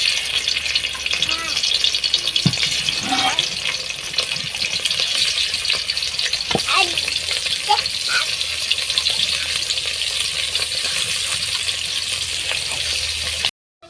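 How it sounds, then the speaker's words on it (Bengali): Fish frying on a clay stove in a village kitchen, a steady broadband sizzle running throughout with occasional clinks and soft knocks, moderately close, no talking over it. "ওই পাশে তো মা মাছ ভাজি চুলাই দিয়ে দিছে"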